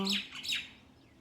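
Mountain birds chirping and calling in the morning in Himachal Pradesh, several bright tweets and squawks close by in a short burst that fades off, with no voices.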